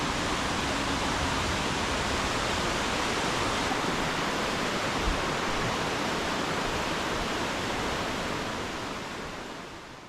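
Water flows steadily along a mountain trail near Franconia in New Hampshire, a loud, continuous broadband rush heard close up that fades slightly at the end.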